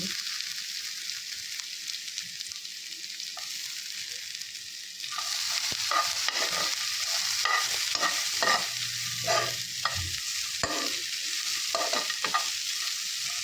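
Ghee sizzles steadily in a pan for a jackfruit gatti dish, then grows louder partway through as frying intensifies. Intermittent scraping stir strokes and clatter sound close by, with no talking.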